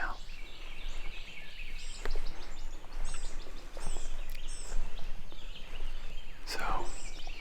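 A wild turkey gobbles far off across public land near a river in North Carolina during a hunt, faint gobbles rising over quiet outdoor ambience and soft nearby whispering.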